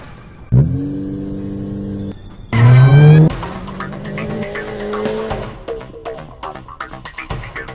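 A car pulls away in the video game Granny during the escape ending, with a sharp tire squeal, rising engine revs and then rumbling, clattering driving noise that continues to the end.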